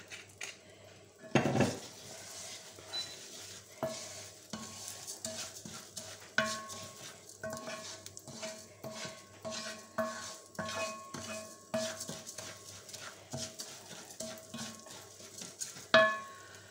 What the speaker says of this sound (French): on remue pour pas que ça attrape surtout